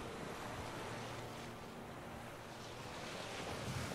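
Ocean waves wash around a boat at sea in The Witcher 3, a steady, close rush of surf mixed with gusting wind that holds at an even level throughout.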